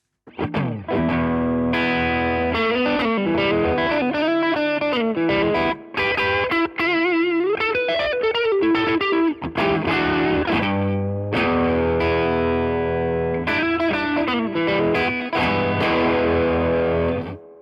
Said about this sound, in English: I'm going to flip over to the Overdrive channel now, and I'm going to dial in a nice low gain